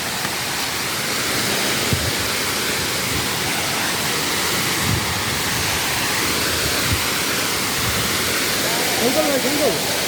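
Duduma waterfall in Koraput roars as a broad, steady wash of falling water close at hand, with people's voices faintly underneath.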